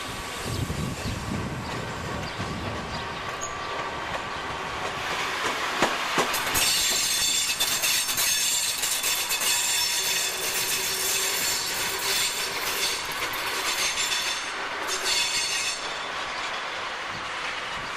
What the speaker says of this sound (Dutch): Dan komt de 6504 als loslok terug vanuit het Visé.